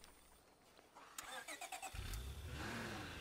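A car engine cranks in State of Decay 2, a quick series of starter chugs that catches and roars into a steady idle with a brief rev, fairly close and alone without voices.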